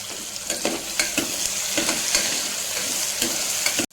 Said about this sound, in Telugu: ఆ తర్వాత టమోటా ముక్కలు కూడా వేసి ఒక 2 మినిట్స్ ఉడికించుకోవాలి.